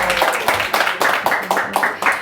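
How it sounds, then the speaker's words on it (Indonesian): A small studio audience claps in a series of regular bursts, a crisp and fairly loud round of applause with brief pauses between the rhythmic pulses. "Tepuk tangan lagi dong."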